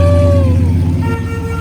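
A 1990 Ford F-150 pickup horn sounds in one sustained tone that bends slightly downward, loud and close, over a low rumbling idle.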